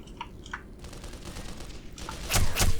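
An alien rifle fires in the Black Mesa game with rapid, crackling bursts, some muffled shots early on and a loud, dense volley near the end.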